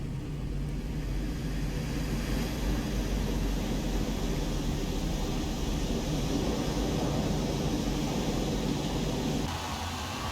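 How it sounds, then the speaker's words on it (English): A Ferrari 812 Superfast races a Vulcan jet in Forza Horizon 4, giving a loud, steady blend of engine roar and jet rumble that holds for about ten seconds, then eases slightly near the end. "A Ferrari 812 Superfast against a Vulcan Jet."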